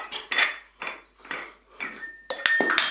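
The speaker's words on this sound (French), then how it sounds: "C'est connu, c'est une cafetière italienne." An Italian moka coffee pot is handled in a home kitchen, producing a run of metallic knocks and scrapes about every half second, then sharper, brighter clinks near the end, with no talking.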